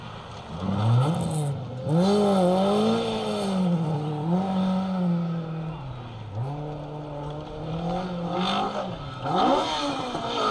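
Rally car on a Welsh forest rally stage, approaching and swinging through a hairpin right, its engine rising and falling in pitch with gear changes and throttle blips, loud and close for most of the pass with a brief lift mid-way.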